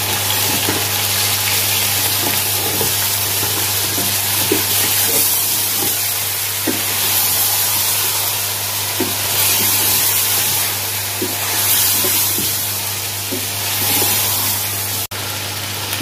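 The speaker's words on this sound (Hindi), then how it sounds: "ये डाल के तो इसकी और अच्छे से ज़रा भुनाई कर लेते हैं।" Sliced onions frying in a pan with whole garam masala, white cumin, black pepper and a piece of cinnamon, giving a loud, continuous sizzle with faint scattered crackles and a steady low hum underneath.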